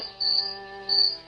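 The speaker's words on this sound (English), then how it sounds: "Pinocchio heard a cricket singing near the window." A cricket chirps in two short shrill bursts, a high rhythmic trill with a gap between them over a quiet, faintly tonal background, used as a storybook sound effect.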